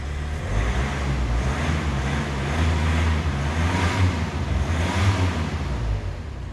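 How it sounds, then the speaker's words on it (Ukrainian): Mazda 6 engine revving hard as the front wheels spin on a slippery road, a loud sustained drone that swells and eases in waves, heard up close with no talking. "слизька дорога, у нас передні колеса прокручуються"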